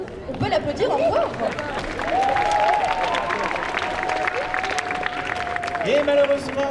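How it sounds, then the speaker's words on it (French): Audience at a cosplay show at Clermont Geek Convention 2023 applauds steadily through the whole stretch, with crowd chatter mixed in and a voice with a long sustained tone carrying over the clapping. "On peut l'applaudir encore."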